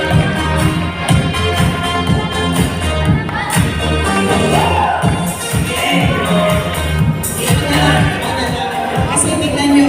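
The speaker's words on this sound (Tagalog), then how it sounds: "Halina't sa lubungin ng masigabong palakpakan na kasamang hiyawan, ang ina ng ating barangay, unang barangay, Honorable Teresita Manal." A crowd cheers and claps to welcome the barangay captain at a barangay youth council gathering, a continuous roar of voices and applause blended with loud, beat-driven music throughout.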